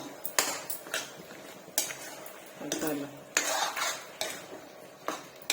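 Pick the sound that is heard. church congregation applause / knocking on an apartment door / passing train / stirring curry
stirring curry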